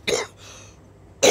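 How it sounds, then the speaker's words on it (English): A person with a lingering cough of two to three weeks coughs twice, two short harsh bursts separated by about a second of quiet, close and loud. "Once I get this cough out of the way"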